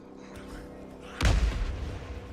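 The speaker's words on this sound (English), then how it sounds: "I want to use a flashbang to pull these guys out toward the mouth of the cave here" A flashbang grenade in Days Gone goes off with one sudden loud bang and a deep rumbling boom, followed by a rough decaying tail of noise over a steady low hum.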